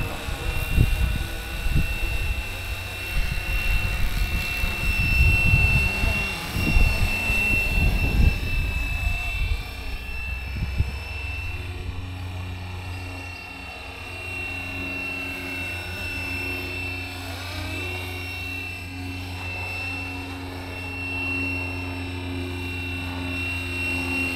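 A Fly-Wing Bell 206 model helicopter flies outdoors in gusty wind, its rotor and motor whine holding steady with tonal hum, while rumbling wind noise and handling dominate the first ten seconds; a voice speaks early on.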